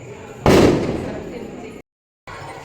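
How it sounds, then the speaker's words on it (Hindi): A single loud Diwali firecracker blast booms up close, its echo fading over a second before a short silence and faint background noise. "कुछ बच्चे तो यहाँ पटाखा छोड़ने भी लगे हैं।"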